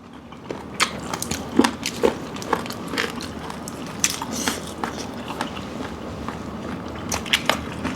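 Crunchy bites and chewing of a spicy Thai tam lep mue nang salad, with repeated crisp crackles close to the mouth at an uneven pace.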